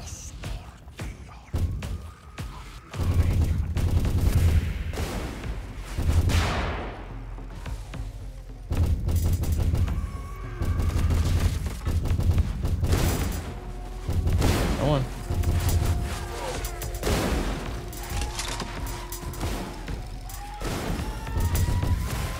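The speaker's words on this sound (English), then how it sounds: "I have to shoot something, I know that much." Gunfire and heavy impacts in the video game Scathe, a busy run of bursts, thuds and booms over game music, with someone talking at times between shots.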